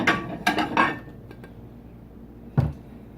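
A warm shrimp po' boy roll set onto a plate with a few light clinks and knocks in a quick cluster, then a single firmer thud of dishware a couple of seconds later.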